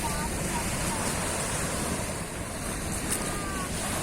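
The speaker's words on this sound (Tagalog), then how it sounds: "yung alon malakas dahil nga po sa dala ng paparating o may bagyo, malakas ang hangin" Strong waves breaking at Dolomite Beach as a storm approaches, a dense, loud, continuous roar of surf mixed with gusty wind buffeting the microphone, with no clear gaps.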